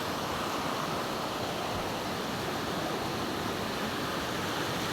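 Steady rush of spring water flowing in Japan, a dense, even wash of sound with no letup and no voices.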